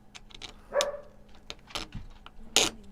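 A dog barks a few times in a room where a 3D printer is being assembled, short sharp yaps spread across a few seconds, mixed with some clattering indoor handling noises.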